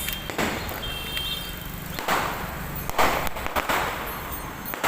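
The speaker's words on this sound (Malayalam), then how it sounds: "പടക്കം പൊട്ടിക്കുന്നു." Firecrackers burst outdoors at a birthday celebration, several sharp pops and thuds spread irregularly over a noisy background, moderately loud and fairly close.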